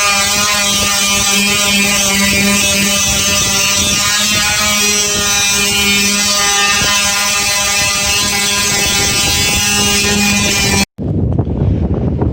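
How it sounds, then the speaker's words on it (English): Loud, continuous whine of a power sander sanding a truck topper, running steadily for a long stretch, with a sharp cutoff near the end followed by quieter rumble. "Now I'm gonna get back to sanding."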